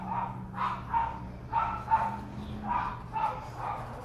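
A dog barks repeatedly outdoors near a landscape painting session, about eight sharp barks in an uneven rhythm, moderately close and clear over a faint low background hum.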